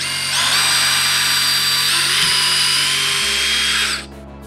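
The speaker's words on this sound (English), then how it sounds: "I'm gonna drill that hole." A power drill bores a hole with a high steady whine that holds for about four seconds close by, then cuts off sharply.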